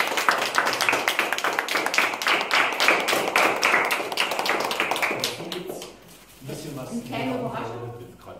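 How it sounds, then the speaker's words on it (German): Children clap for a neighbourhood award honoree, a brisk burst of rapid clapping that fades after about five seconds, followed by people talking. "Glückwunsch und der Applaus der Kinder."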